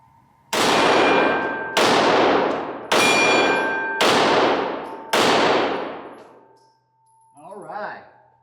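Five loud, evenly spaced shots from a Glock 17 Gen 5 9mm pistol, each ringing out with a bright metallic clang off steel targets and a long decaying tail, followed by a faint short voice.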